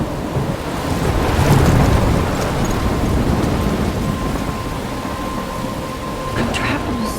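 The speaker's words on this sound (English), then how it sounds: "I'm trapped in a storm?" A thunderstorm in the video game Life is Strange roars continuously, with heavy rain, wind and crashing surf forming a loud, dense wash of noise throughout.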